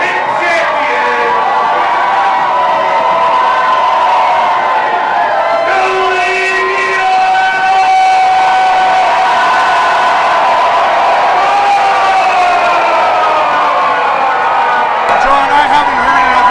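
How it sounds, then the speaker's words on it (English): A sold-out crowd at a Superkick'd wrestling show roars and cheers in a sustained ovation for a wrestler, a loud continuous wall of voices and whoops from a large audience throughout. "I haven't heard an ovation for anybody the way I'm hearing this ovation from a sold-out crowd here for Seleziya Sparx"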